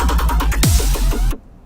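A heavily saturated, distorted dubstep bass patch from Serum throbs in a loud pulsing wobble with a sharp downward sweep midway, then cuts off abruptly into silence.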